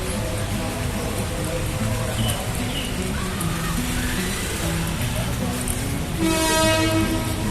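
Airport train at Manggarai station in Jakarta, a loud steady rumble of rail cars with a sustained horn rising near the end, amid busy station ambience.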